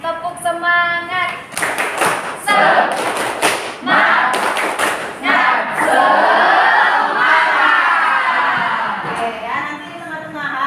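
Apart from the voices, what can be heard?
class doing the rhythmic 'tepuk semangat' clapping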